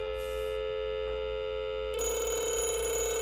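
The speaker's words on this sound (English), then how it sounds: "you hear it ringing. You know, it's ringing the modem in the phone." A steady electronic telephone ring tone sounds on a line simulator, ringing a modem dialled from a Texas Instruments Silent 700 terminal at 300 baud, growing louder and brighter partway through, with no talking.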